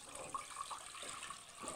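Potato water and pan drippings pour from a pan into a saucepan, a steady liquid splashing and trickling that runs continuously for a couple of seconds at moderate loudness.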